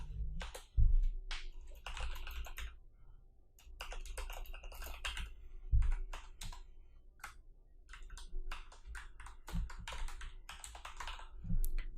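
Rapid irregular keystrokes on a computer keyboard while writing HTML code, close and fairly quiet, with a few heavier thumps and brief pauses between bursts.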